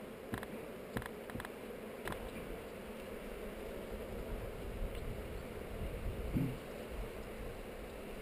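Honey bees working heather comb in a hive, a steady low buzzing hum that stays faint and continuous throughout, with a few soft knocks near the start and no talking.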